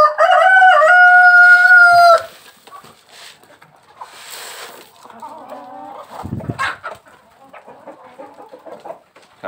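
Laying hens in a farmyard coop: a loud rooster-like crow opens, then scattered clucks and soft fowl calls follow at moderate volume, close by.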